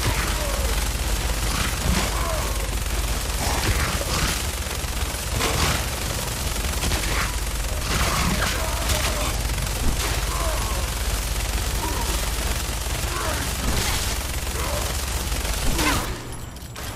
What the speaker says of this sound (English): Let me get my minigun here.